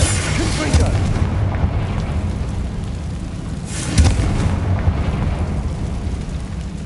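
Confringo fire spells exploding in the video game Hogwarts Legacy, a dense, continuous roar of booms with heavier bursts near the start and around the four-second mark, loud and close.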